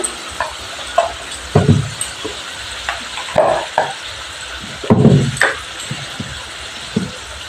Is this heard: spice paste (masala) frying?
yes